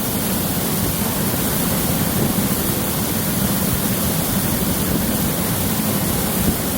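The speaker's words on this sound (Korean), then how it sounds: "가슴이 뻥 뚫리는 물소리입니다" Steady, full rush of falling water from an artificial indoor waterfall on the ground floor of The Hyundai Seoul department store, broadband and constant like a large cascade close by, with no voices or other sounds over it.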